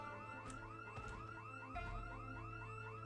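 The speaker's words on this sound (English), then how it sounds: "I can't tell if I've set off another alarm." A car alarm wails in the zombie survival game Project Zomboid, a repeating rising electronic whoop cycling steadily and evenly, fairly quiet and with no voices over it.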